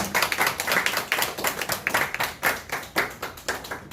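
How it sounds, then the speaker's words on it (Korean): A church congregation at a Sunday worship service applauds to welcome a pastor, with crisp, distinct handclaps in a brisk, slightly uneven rhythm, close and clear with no talk. "박수로 환영하겠습니다."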